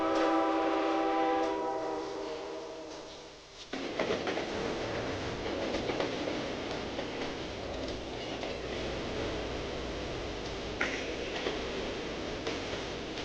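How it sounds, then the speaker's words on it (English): The Zephyr passenger train heads out across the American West, a long horn blast sounding first, then the steady rumble and rattle of the cars rolling on the rails, with a brief clank partway through. "everyone hurries back onto the train, and the Zephyr heads out over the expansive panoramic west"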